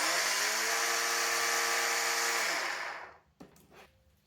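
An ECHO 58V cordless string trimmer runs at its slower speed setting with a steady, close electric motor whine for about two and a half seconds, then spins down and fades out, followed by a few faint handling clicks.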